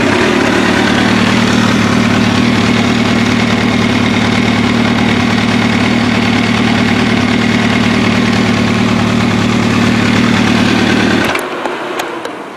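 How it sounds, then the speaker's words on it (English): An MV Agusta F4 motorcycle engine idles steadily and smoothly after a throttle body sync, a loud close continuous rumble with a strong low hum that cuts off abruptly near the end. "Bike is idling a lot cleaner."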